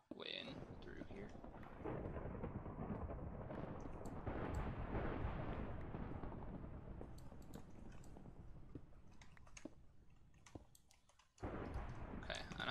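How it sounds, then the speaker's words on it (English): Loud, sustained rumbling thunder from a lightning storm in the video game Minecraft, filling most of the clip with a heavy roar before cutting off briefly near the end and resuming. "I can't actually hear anything right now because that lightning's so dang loud."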